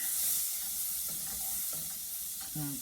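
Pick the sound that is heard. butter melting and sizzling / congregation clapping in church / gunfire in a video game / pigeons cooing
butter melting and sizzling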